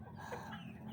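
Farmyard chickens clucking steadily as they are fed leftover cold rice, with a rooster-like call mixed into the close, continuous flock noise.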